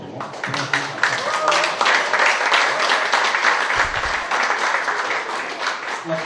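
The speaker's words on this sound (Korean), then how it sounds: "다시 한번 뜨거운 박수로 부탁드립니다." Warm audience applause at a book concert in Gyeongnam for a biography of Roh Hoe-chan, following a choir's opening performance. Dense, steady clapping fills the whole stretch; a voice may come through faintly.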